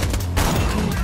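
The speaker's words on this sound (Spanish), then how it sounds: "Disparan de todos lados, weón" Gunfire in Borderlands 2, a brief dense barrage of loud, close shots with no clear gaps.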